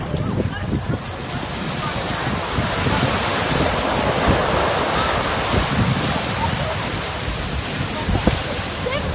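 Surf rolling onto a beach, a steady broadband wash with gusty wind buffeting the microphone, loud and close throughout.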